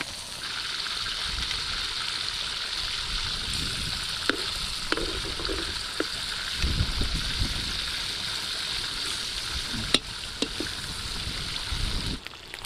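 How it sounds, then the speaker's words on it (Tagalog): Steady hiss and sizzle of fish frying in oil, with occasional scraping and clinking of a utensil stirring in the pan. "tapos dyan na rin po natin gigisa"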